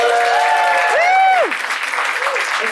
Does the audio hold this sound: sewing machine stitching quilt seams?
no